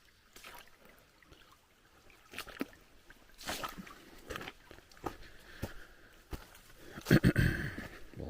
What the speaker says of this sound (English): We got a little creek crossing here to get across.